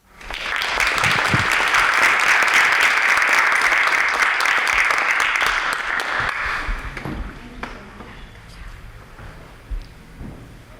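Audience at the Brattleboro Literary Festival applauding to welcome Anna Shechtman and Emmeline Clein, a loud steady crowd clapping that swells quickly, holds for several seconds, then fades into scattered claps and room noise.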